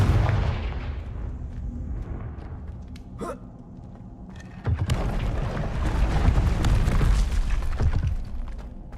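A Confringo fire spell in Hogwarts Legacy goes off as a sharp burst, followed by a heavier booming blast that rolls on as a rumbling roar.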